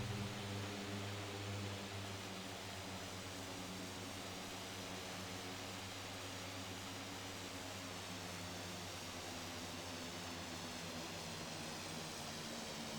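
Steady airplane engine drone from the Infinite Flight simulator during a New Zealand VFR flight, a constant broadband hum with low tonal engine bands, unbroken and fairly loud for the whole stretch, no talking.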